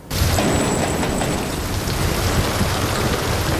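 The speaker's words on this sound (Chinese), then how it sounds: "倾盆大雨的夜晚" Heavy rain pours down at night in a TV drama scene, a loud, steady wash of downpour filling the whole clip without a break and with no voices over it.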